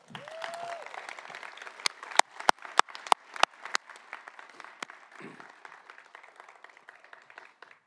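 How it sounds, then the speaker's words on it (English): Scattered claps from a small crowd at a 2024 Hall of Fame induction ceremony, with a few sharp, distinct hand claps standing out near the microphone, fading into light applause. "Another round of applause."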